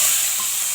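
Chopped onion and slit green chili hit hot oil with cumin and cloves, giving a loud, even hiss of frying over a brief moment with no talk.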